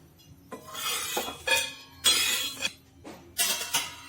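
Roasted large and small cardamom pods are scooped out of a pan, producing a few bursts of metallic scraping and rattling clinks with short pauses between them, close by and without speech.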